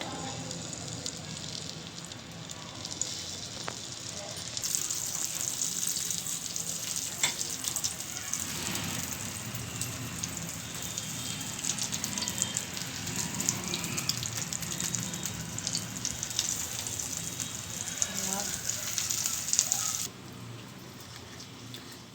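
Boti kebab pieces fry in hot oil in a pan, a steady loud sizzle that swells once the meat goes in and holds for about fifteen seconds with faint stirring before dropping back.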